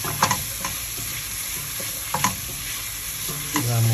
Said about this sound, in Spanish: Y vamos a saltear nuestra cebolla para que se vaya absorbiendo los sabores.